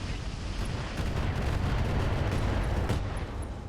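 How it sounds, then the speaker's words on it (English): Artemis 4 missiles launching in the RogueTech video game, a rumbling barrage of booms and thuds rolling over a dense, sustained roar, with a few sharper bursts near the middle. "We are better off with Artemis 4 missiles here, and so we'll fire them"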